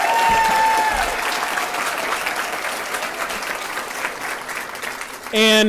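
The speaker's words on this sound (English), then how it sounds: "please give a nice round of applause to our principal, Mrs. Shannon Hathcock" A school audience applauds the principal at an elementary school ribbon-cutting ceremony, a dense steady clapping that stays strong, then fades slightly before a brief louder burst at the end; faint voices mingle underneath.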